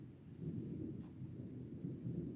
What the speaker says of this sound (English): Here comes the thunder.